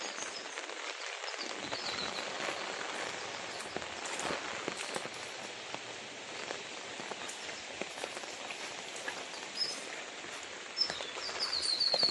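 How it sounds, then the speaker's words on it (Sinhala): Steady heavy rain drumming on surfaces throughout, a dense continuous hiss with a faint bird call near the end. "දවසේ මාර හයියෙන් වහිනවා"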